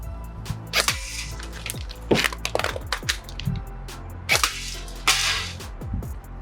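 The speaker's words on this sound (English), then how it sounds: "I'm gonna have 1 chance to shoot a can, do a quick reload, and then another shot to shoot the other can" Airsoft gun shots aimed at cans, with a quick reload between them: sharp, close snaps and cracks mixed with small clicks and rattles in a brisk, uneven sequence over a steady background hum.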